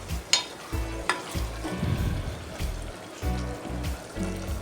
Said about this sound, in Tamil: ஒரு கிளறி விட்டுக்கலாம், இல்லைன்னா அடி பிடிச்சிக்கும்